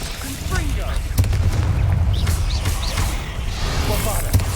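A Confringo blasting spell explodes in Hogwarts Legacy on PS5 Pro, a dense booming burst with heavy low rumble, sustained amid other combat effects, with a sharp thump near the start and another near the end.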